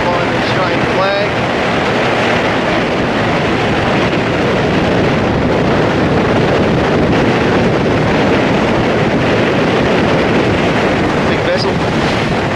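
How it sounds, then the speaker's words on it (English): Strong wind battering the microphone at the back of a boat beside a large cargo ship, a loud, constant roar of gusts and rushing water over the full stretch, with no clear speech. "There's a lot of wind blowing."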